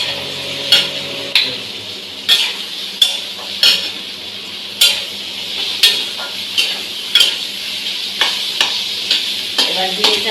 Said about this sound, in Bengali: আলু পেঁয়াজ সব একসাথে ভেজে নিচ্ছি।